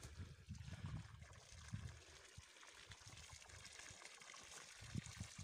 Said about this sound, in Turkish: Suyumuz bu şekilde akıyor bu havada.